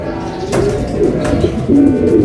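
Pigeons kept for sale coo close by, soft repeated rolling calls under a busy background with occasional sharp clicks, fairly loud and near.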